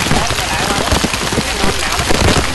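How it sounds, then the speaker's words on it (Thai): Heavy rain and hail pelting down on a mountainside at Doi Inthanon, a steady loud hiss of drops and pellets throughout, with scattered harder impacts. "ฝนและลูกเห็บนะครับเดินต่อคงลำบากนะครับ"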